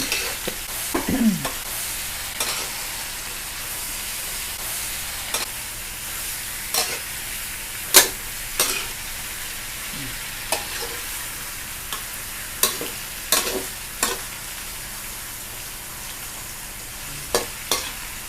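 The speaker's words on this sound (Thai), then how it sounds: "เราจะพักผัดให้มันได้หอมก่อน" Eggplant stir-frying in a pan: a steady sizzle runs throughout, broken by scattered scrapes and clacks of a utensil stirring, close up and with no talking.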